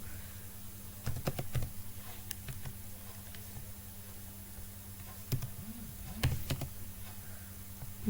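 Soft, sparse computer keyboard typing while code is entered, with scattered light key clicks in short bursts against a quiet room hum.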